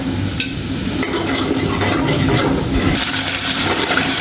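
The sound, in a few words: sautéing spice paste with turmeric, salt and water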